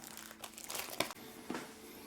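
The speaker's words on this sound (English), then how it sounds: "I want to get rid of the wrapper." Sticky inner wrapper being pulled off German Limburger cheese, quiet close crinkling and crackling of the wrapping in a short rustle with a couple of sharper snaps.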